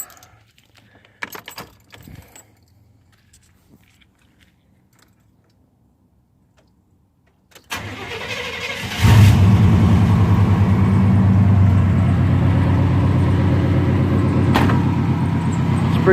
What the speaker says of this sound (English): But we'll go ahead and fire it up right now. I'll let you listen to it.